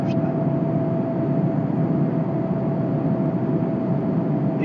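An airplane descending to land at an airport gives a steady, even roar with a thin constant engine whine, heard from a distance without any talking.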